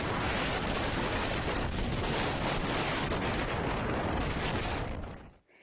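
A March blizzard's wind roars in a continuous dense broadband rush, loud and close to the microphone, buffeting steadily before dropping off abruptly at the end, with no voices.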